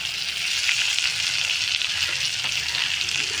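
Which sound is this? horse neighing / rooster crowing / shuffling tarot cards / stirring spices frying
stirring spices frying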